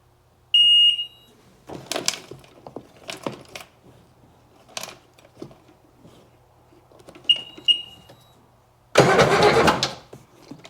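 A Seadoo RFI 787 with a hard-start problem gets a starting attempt with two plugs in: electronic beeps sound twice, then short bursts of starter noise come in, ending in one loud, steady cranking burst that never catches.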